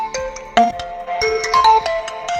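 A smartphone ringtone made from a custom recording of a person's name plays alone, loud and close, as a bright melodic electronic jingle with a quick run of chiming notes.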